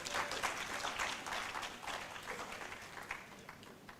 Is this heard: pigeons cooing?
no